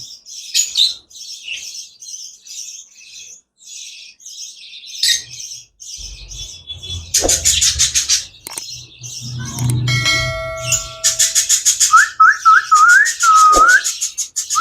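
Pet budgerigars chirp and whistle in bursts of high tweets and rising whistled notes, close and loud, with a brief low rumble and a ringing tone partway through.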